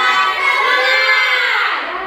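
A group of students in a classroom shouts and cheers together in one loud, sustained burst that fades slightly at the end.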